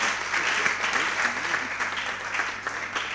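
Junior high school contest audience applauding a school team, a steady, moderately loud patter of many hands throughout, with a faint voice murmuring underneath.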